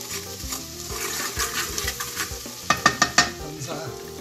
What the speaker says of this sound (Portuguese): Vamos aguardar só dar uma refogadinha neste alho